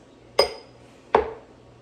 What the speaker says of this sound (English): So I'm going to plop in the eggs.